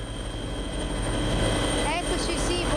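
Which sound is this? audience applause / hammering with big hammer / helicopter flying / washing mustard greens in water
helicopter flying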